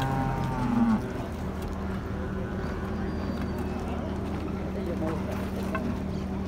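Cattle moo at a livestock market, one low drawn-out call near the start over a busy background of distant animal noise and general bustle.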